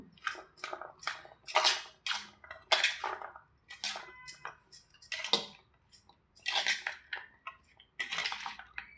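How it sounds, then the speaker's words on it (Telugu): Peanut chaat being mixed with lemon juice in a bowl, a rapid series of bright clinks and scrapes of a spoon against the dish in uneven bursts, close and fairly quiet, no speech. "నిమ్మరసం వేసి మళ్ళీ ఒక్కసారి కలుపుకుందాం"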